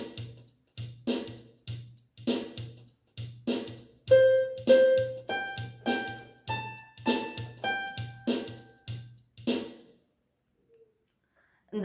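A home electronic keyboard's built-in 16 Shuffle Beat 1 rhythm at tempo 100 plays a steady, close, clean loop of ticking percussion and a thudding bass pulse, with sustained keyboard notes joining partway through, then stopping into near silence.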